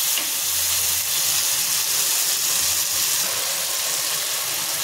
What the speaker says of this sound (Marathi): इथे मी अद्रक, लसूण, मिरची आणि कोथिंबीर याची पेस्ट करून घेतले। ती मी मिक्स करून परतून घेते।